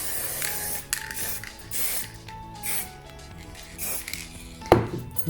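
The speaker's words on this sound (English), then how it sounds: "This is just the acrylic spray paint." Short hissing bursts of an aerosol spray can, repeated several times with brief gaps, plus a sharp clatter near the end.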